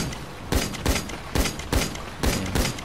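Gunfire from a weapon in GTA Online, five sharp shots spaced about every 0.4 seconds, each with a bright crack and short decay over a steady background hum, no talking.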